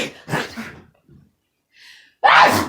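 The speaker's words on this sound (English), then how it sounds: "I'm gonna sneeze." One person gives a sharp, close sneeze after a short breathy build-up and a faint pause, in a quiet indoor space.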